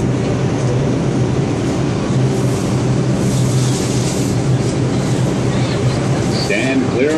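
New York City R142 subway train bound for Wakefield–241st Street on the 5 line arriving in a station, a loud continuous rumble with steady low hum and screeching wheel squeals near the end.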